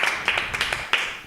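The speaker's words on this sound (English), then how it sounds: "Let's give Thomas a round of applause." A few scattered hand claps, a small handful of people applauding Thomas at a telethon, in brief uneven bursts rather than a full ovation.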